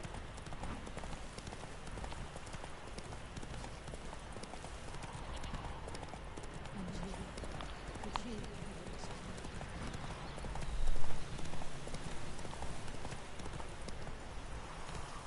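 Roach the horse gallops in The Witcher 3 with steady clip-clop hoofbeats, rain or ambient game noise underneath and a short louder burst near the end. Faint talk sits in the background.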